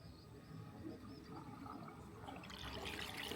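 A toilet being flushed after a leak repair, starting as a soft trickle of water and building into a louder rushing flush toward the end.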